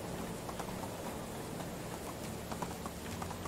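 Rain falls steadily in the video game Medieval Dynasty, a constant, fairly loud patter of drops across a medieval village setting with a faint low rumble underneath and no talking.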